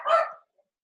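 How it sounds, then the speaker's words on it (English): Pet dogs bark at a cookie delivery: one short, fairly close bark that fades quickly, followed by a tiny faint yip and then silence. "the reason my dogs are barking is because I'm getting cookies delivered"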